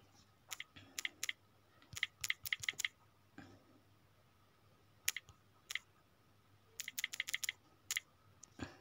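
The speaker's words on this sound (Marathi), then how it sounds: "सिंपल मराठी टायपिंग तुमच्या समोर मी केले" Fingers tap a computer keyboard in quick bursts of sharp, close clicks separated by quiet pauses, with no talking.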